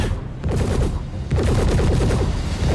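Dense, rapid gunfire rattles almost continuously in a Star Citizen firefight, loud and close, and grows heavier partway through.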